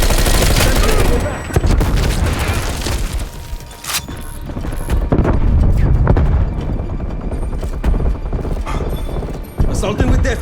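Rapid automatic gunfire from a Death Machine minigun in a Call of Duty Cold War multiplayer domination match, loud and dense, mixed with explosions, booms and other battle noise across the whole stretch.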